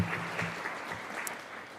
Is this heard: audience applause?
yes